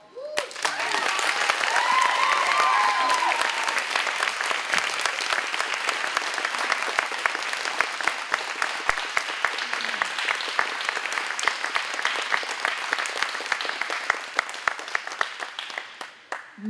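An audience at a fashion gala in Nashville breaks into sustained, dense applause that swells quickly, holds loud for several seconds, then thins out and fades.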